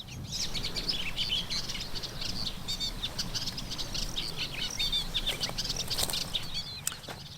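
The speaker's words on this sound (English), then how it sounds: "It's warm and the birds are singing" Birds chirp and sing on a warm spring morning on Lesvos, with many overlapping calls and quick flutters of wings. Dense, steady birdsong fills the scene at moderate distance over a low outdoor hum.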